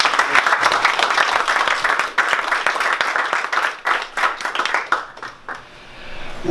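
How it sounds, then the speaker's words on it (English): A crowd at a small Los Angeles venue claps for a visiting speaker, the steady applause tapering off and fading out toward the end. "So a round of applause for Devamrita Swami."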